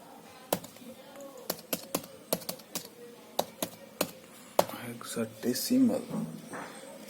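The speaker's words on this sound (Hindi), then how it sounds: "एक बार मैं टाइप कर लेता हूँ इन हेक्साडेसिमल" Keystrokes on a computer keyboard while entering hexadecimal values in a Python program, sharp clicks in short irregular bursts, close and fairly loud, then someone speaks over the last few taps.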